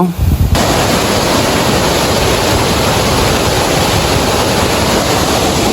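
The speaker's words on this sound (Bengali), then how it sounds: "আপনারা শুনতে পাচ্ছেন অবশ্যই একটি বড় একটি ঝর্নার আওয়াজ শুনতে পাচ্ছি" A large waterfall at Foy's Lake in Chittagong roaring as a loud, dense, continuous rush of falling water close by, with a brief quieter moment at the very start and no audible talk.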